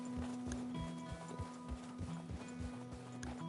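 Steady clip-clop of horse hooves in Red Dead Redemption 2, an even rhythmic trot under a constant low hum and background tone, moderately close and unbroken throughout.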